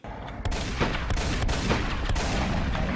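Video game gunfire: several loud, sharp shots crack out at irregular intervals over a dense, rumbling background of battle noise.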